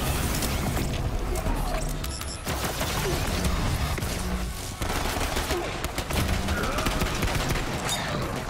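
Rapid gunfire from Borderlands 3 fills the whole stretch, dense bursts of shots rattling continuously and loudly with only brief dips, while faint talk sits underneath.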